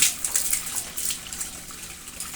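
Water splashing and pouring over a child at bath time, a close, hissy gush with irregular splashes and bursts, no talking.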